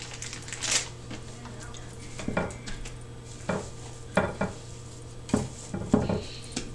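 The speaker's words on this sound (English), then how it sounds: "We're going to put them in and fold them in." Cinnamon chips are folded into maple scone dough, with a spatula or spoon making soft, intermittent scraping and thumping strokes against the bowl, close and fairly quiet.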